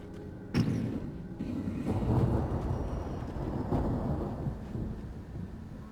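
A thunderstorm in Alan Wake rumbles on, with a sudden crack of thunder early on, then a continuous low roll of thunder and rain-like wash that stays fairly steady throughout.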